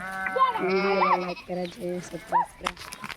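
Sheep from a shepherd's flock bleating loudly and close by, several wavering calls one after another with short gaps between them.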